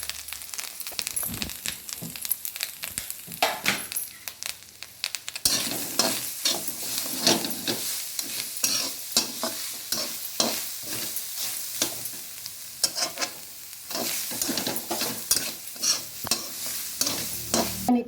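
Coriander powder masala frying and being stirred in a pan for a green fish masala, with a steady close sizzle and repeated scraping stir strokes throughout, no talking.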